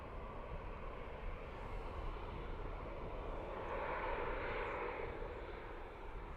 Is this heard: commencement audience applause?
no